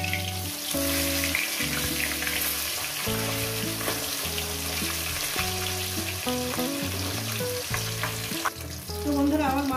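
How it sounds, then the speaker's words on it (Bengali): Pieces of katla fish fry in hot oil in a pan, giving a continuous close sizzle with occasional stirring scrapes over soft background music, with no speech. "তো বন্ধুরা আমার মাছ ভাজাটা হয়ে গেছে"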